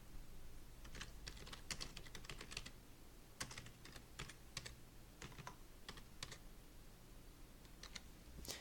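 Computer keyboard keys tapped in irregular bursts while entering alternative text for a website picture, soft and fairly close over a low steady hum, with short pauses between clusters of keystrokes.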